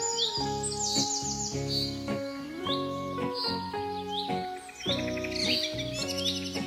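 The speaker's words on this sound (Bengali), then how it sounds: "পাখিগুলো গাছের ডালে বসে কি সুন্দর করে গান গাইছে।" Cartoon birds perched on tree branches sing in a bright, melodic chorus of chirps and trills set over tuneful background music, loud and close throughout.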